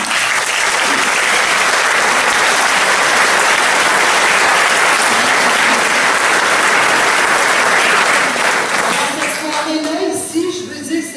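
Loud, sustained audience applause for a speaker at a public lecture on fracking, a thick wall of clapping that holds steady before thinning out near the end as voices emerge.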